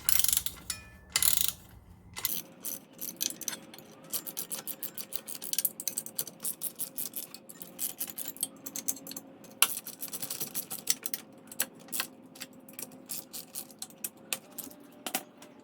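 A ratchet wrench clicking in quick repeated bursts as bolts on a Honda CBR600F4i motorcycle exhaust are loosened, close and fairly quiet, with short pauses and a few metallic knocks between runs.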